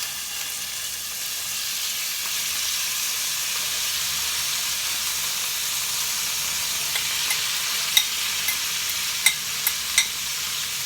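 Marinated minced pork frying with eggplant sizzles steadily in a hot pan, a constant bright hiss with a few sharp crackles and stirring clicks near the end.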